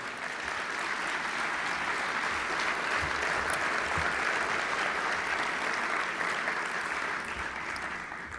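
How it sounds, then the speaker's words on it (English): Steady applause from a civic gathering's audience honoring city agencies and partners, dense and sustained throughout with a few sharper claps rising out of the wash before tapering slightly at the end. "Please give them all a round of applause as if they were there."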